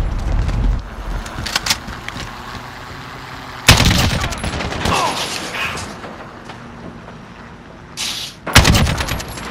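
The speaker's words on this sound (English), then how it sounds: "Stop shooting at me. You're never gonna stop shooting at me." Gunfire in Call of Duty: bursts of automatic fire and loud single cracks, near and loud, repeating in clusters over a steady background of game noise.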